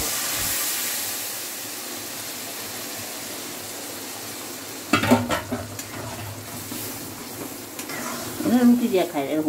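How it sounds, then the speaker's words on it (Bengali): Boiled lentils go into sizzling spiced meat masala, and a steady hiss turns into thick, bubbling splutters and spoon-scraping stirs, with bursts of louder churning near the end. "সেদ্ধ করে রাখা ডালটা ওর মধ্যে দিয়ে দিতে হবে"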